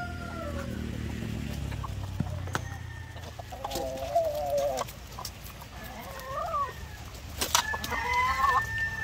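Chickens clucking and calling steadily while pecking at pechay leaves on a farm, several birds close by with a brief crow-like call over a low background.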